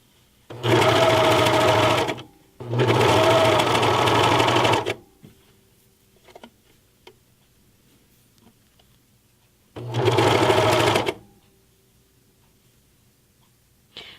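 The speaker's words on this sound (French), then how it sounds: "C'est là que c'est important d'avoir une bonne surjeteuse parce qu'on s'en vient dans plusieurs épaisseurs." A serger overlock machine stitches through several layers of fabric in three loud, steady bursts of a couple of seconds each. Quiet gaps with faint handling noises separate the runs.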